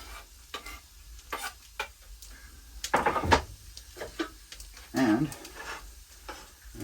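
Chopped leek dropped into a pan on a wood stove, with a couple of bursts of rustling and scraping as it goes in and gets moved about, over a soft low sizzle heard up close.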